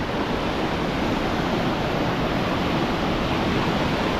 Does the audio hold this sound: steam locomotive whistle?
no